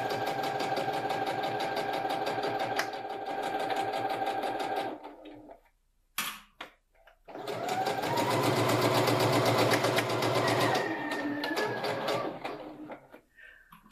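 A sewing machine runs in steady rapid stitching bursts while sewing a drawstring bag, stopping briefly near the middle before resuming at a similar pace, close and fairly loud.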